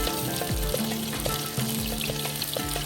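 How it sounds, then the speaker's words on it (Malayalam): Shallots, ginger and garlic fry in a pan with a steady loud sizzle, broken by a few low knocks and stirring scrapes roughly every half second. "ചെറിയുള്ളി മൂത്ത് വരട്ടെ. ഇഞ്ചിയും വെളുത്തുള്ളിയും ചേർത്ത് കൊടുക്കാം"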